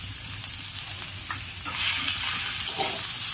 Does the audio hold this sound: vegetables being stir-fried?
yes